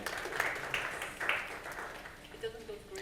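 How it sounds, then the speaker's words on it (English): A conference audience bursts into several short rounds of clapping, moderately loud in a hall, with a speaker's voice continuing over and after the applause. "Give me applause that you did like the ad."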